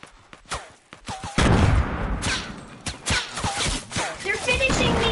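Rapid gunfire and blasts from the Fortnite video game, a loud sustained barrage with repeated sharp shots, mixed with players talking over it.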